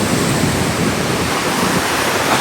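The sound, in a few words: storm sea waves surging onto the shore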